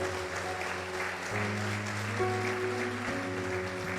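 A church congregation applauds during a family worship service, with a soft, continuous wash of clapping under sustained organ or keyboard chords that shift pitch a few times.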